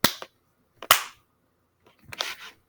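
Three sharp hand claps, spaced unevenly and fairly dry, each a brief snap followed by silence, with no voices.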